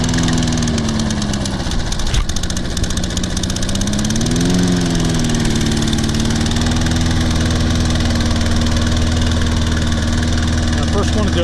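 A Toro Personal Pace Recycler 20332 self-propelled lawn mower, still not running right, has its small engine started, and the engine settles into a loud, steady running drone that wavers briefly in pitch before holding even for the remaining seconds.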